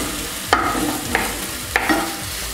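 Chopped onion sautéing in oil in a frying pan for Peruvian papa rellena, a loud close sizzle with three clear spoon scrapes spaced about half a second apart.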